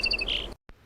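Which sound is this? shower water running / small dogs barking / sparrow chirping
sparrow chirping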